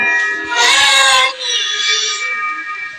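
In a video game, a cat gives two meows, the first loud and piercing, the second softer and drawn out, against quiet game ambience.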